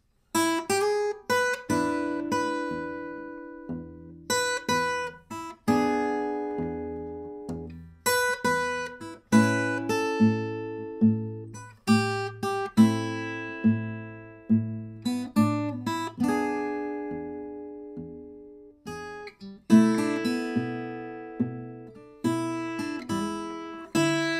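Fingerstyle blues guitar playing a tune in E over a steady thumping quarter-note bass, clear and close, plucked notes ringing and decaying.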